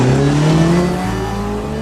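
A 1958 Rachar racing prototype built on a Renault 4CV base, with an R8 Gordini-based 1450 cc engine, at a historic hillclimb; its engine revs loud and close with falling, stepping tones as it shifts and pulls away.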